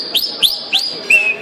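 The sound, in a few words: man whistling an imitation of the pássaro preto's song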